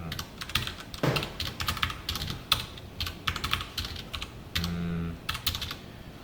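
Python code being typed on a computer keyboard, with quick, close key clicks in irregular bursts and a few heavier keystrokes, over a faint background hum.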